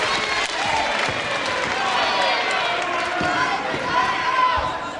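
A wrestling crowd at the Pavilion Gardens in Buxton, Derbyshire, claps and cheers in a continuous broad roar, mixed with scattered shouts and ring thuds, loud and sustained throughout.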